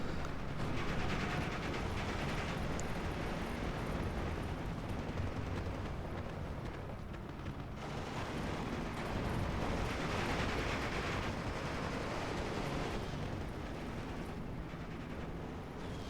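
Mortar shells exploding in a Steel Division 2 battle, with a dense, continuous rumble of bursts and battlefield noise swelling and fading, with no one talking over it.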